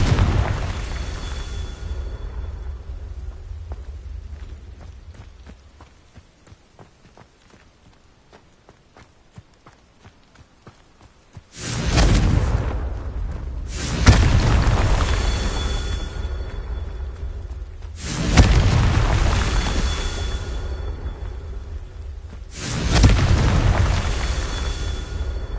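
Confringo blasting-spell explosions in the video game Hogwarts Legacy: four loud, heavy booms spaced a few seconds apart, each with a rumbling tail, following a quiet stretch.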